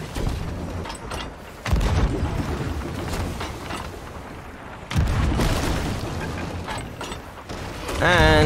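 Sea of Thieves ship masts snapping: two heavy cracking crashes with booming low rumble, each followed by sustained creaking and debris noise, loud and close, with game speech mixed in.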